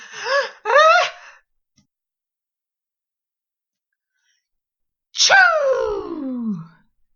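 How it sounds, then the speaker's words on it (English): A person gives a breathy build-up in two short gasps. After a pause comes one big, loud sneeze that trails off into a falling exhale. The sound is close and there is no other talking. "A big sneeze. A loud sneeze."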